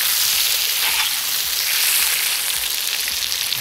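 Meat fries in a kazan over an open fire, giving a loud, steady hissing sizzle with soft crackles and pops throughout and no talking.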